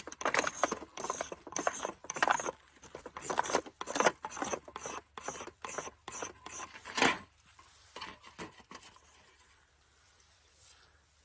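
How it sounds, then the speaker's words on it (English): Steel drawn slowly and lightly across flint to shave off fine flakes makes a close run of short scraping rasps in an uneven rhythm, about a dozen strokes, easing to faint scratching near the end. "if we go slowly, without as much pressure, you can see we're creating shavings"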